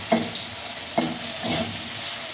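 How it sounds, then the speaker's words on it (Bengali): Brinjal and broad beans fry in a pan among greens, a steady sizzle broken by three distinct scraping stirs of a spatula, close and moderately loud. "শাকের মধ্যেও বেগুনটা আর সিমটা একটু ভেজে দিচ্ছি।"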